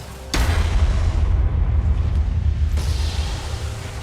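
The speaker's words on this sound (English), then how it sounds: "Your team has destroyed a turret." A deep booming blast as a turret is destroyed in League of Legends, a loud low rumble that holds for a few seconds with a bright crackling burst at its onset and another shift partway through.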